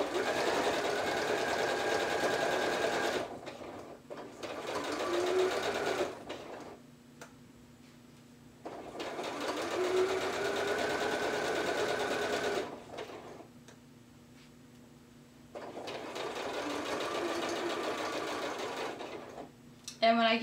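A domestic sewing machine stitches along a fabric edge in three long bursts of steady rapid needle clatter separated by quiet pauses, fairly close, with someone speaking between and during runs.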